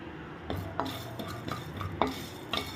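Coriander being stirred in a hot pan for tamarind rice, with a spoon scraping and clinking against the metal in irregular strokes, close and fairly loud with a faint sizzle beneath and no talking.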